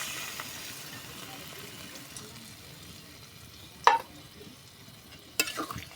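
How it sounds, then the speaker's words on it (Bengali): Water is poured into crab curry cooking in a pan, giving two short, loud splashing sizzles over a low, steady simmer. "এবার আমি হাফ মগের মতন জল দিয়ে দেব"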